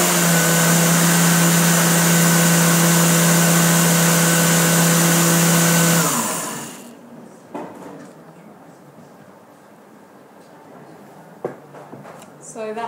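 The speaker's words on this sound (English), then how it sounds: "we just add that mixture into your blender as well" A blender whirs through a vegan lasagna mixture with a loud, steady motor whine for about six seconds, then cuts off, leaving a quiet room with a few soft clicks and knocks.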